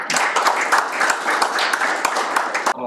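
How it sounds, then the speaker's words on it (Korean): Audience applause welcoming a speaker at a Korea Astronomy and Space Science Institute forum, a steady dense wash of clapping with a few sharper individual claps, fairly close, stopping abruptly near the end. "박수로 맞이해 주시기 바랍니다."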